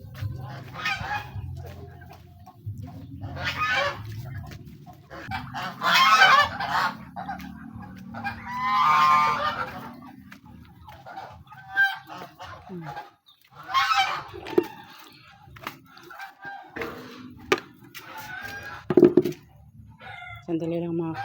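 Flock of geese honking at feeding time in a rural yard, loud repeated nasal honks in irregular bursts, some overlapping, close by, with lower background clucking and a person talking in between.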